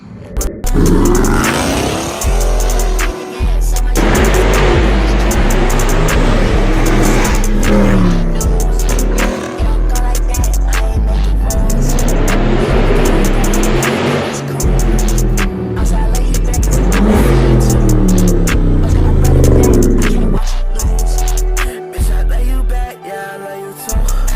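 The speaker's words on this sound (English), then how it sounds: "the number one thing I love about this car is my exhaust" A 2021 Dodge Charger Scat Pack roars through its exhaust, loud and close, with repeated revs rising and falling and some squealing tires, sustained across the whole stretch.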